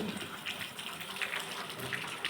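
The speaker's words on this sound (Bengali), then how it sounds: "আমাদের এখানে প্রচণ্ড বৃষ্টি পড়ছে" Heavy rain falling outside, a dense, even wash of hiss with scattered drip accents, moderately faint and steady throughout.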